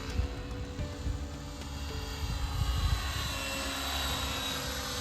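RC helicopter flying outdoors, a steady buzzing rotor and motor drone with tonal whine, holding level and rising slightly in loudness midway.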